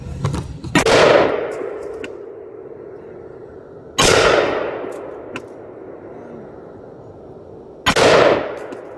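Rifle shots strike a steel target, each a loud ringing clang with a long metallic decay, three hits spaced about four seconds apart, with faint distant pops between.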